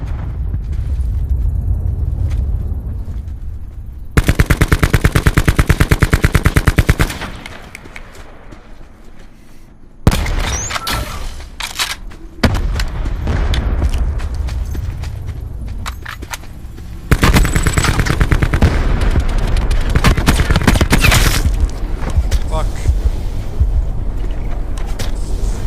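Gunfire in Call of Duty Blackout, with loud bursts of automatic fire and rapid shots that come in dense stretches, broken by a quieter gap and scattered single cracks, and no voices.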